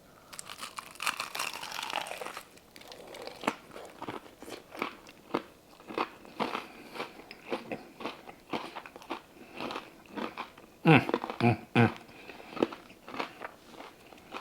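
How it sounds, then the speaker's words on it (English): Loud, close crunching as crispy Southern fried chicken is bitten and chewed, with repeated crackly bursts in an irregular rhythm and no talking. "It's time to bite into this chicken and close this video out. Listen for the crunch."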